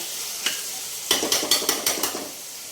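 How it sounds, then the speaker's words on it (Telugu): Tomatoes fry in a pan as a spoon scrapes and stirs them, a soft sizzle beneath a quick run of about six sharp, close scraping knocks. "ఇదిగోండి టమాటా వేగిపోయింది, చక్కగా వేగిందండి టమాటా."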